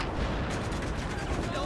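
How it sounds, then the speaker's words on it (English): Dense, continuous Battlefield 4 gunfire and heavy booms, a loud relentless barrage of overlapping shots with a voice talking over it. "That is a lot of shooting here."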